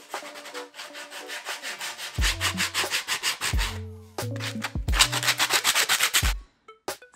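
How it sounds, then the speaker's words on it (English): Hand sanding the rough corners of a wooden workbench's timber parts: close, dry scraping strokes in quick repeated bursts, with a few brief knocks and pauses between passes. "So what I'm going to start with is just, like, sanding the corners."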